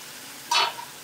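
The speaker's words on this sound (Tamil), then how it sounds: "இப்போ நல்லா கொதிச்சு சுண்டி வரணும், நல்லா எண்ணெய் பிரிஞ்சு வரணும்." A pan of garlic and tomato thokku sizzling in oil, with one short burst of frying and stirring that quickly dies back to a quiet background.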